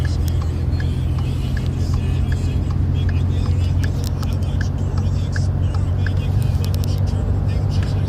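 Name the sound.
Ford Ecoboost pickup truck towing 6000 lbs, merging onto interstate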